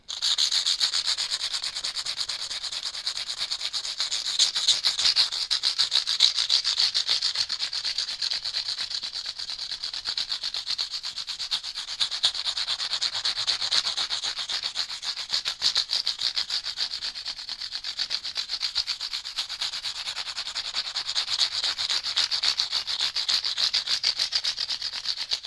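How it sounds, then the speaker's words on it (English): Sandpaper rubs back and forth over the frets of a guitar neck, a continuous close scratchy rasp with quick repeated strokes that holds steady throughout. "Fresh bit of sandpaper."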